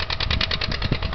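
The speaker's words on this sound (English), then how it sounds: "I believe he's using the John Deere 630 diesel to do the plowing" A John Deere 630 diesel tractor pulling a three-bottom trailer plow across a field gives a steady, rapid chugging beat with a rough mechanical clatter, heard continuously at moderate distance.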